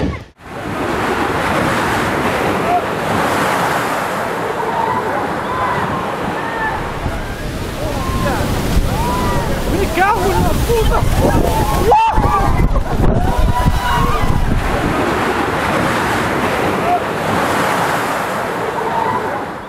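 Storm waves from Storm Kathleen crash along the UK coast in a loud, continuous roaring surge, with sloshing, swelling breakers rising toward the middle, under howling wind.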